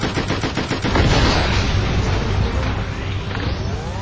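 Gunfire aimed at a boss in the SpyHunter: Nowhere To Run video game, loud rapid bursts that merge into a continuous roar of shots and explosions for a few seconds, with no talking.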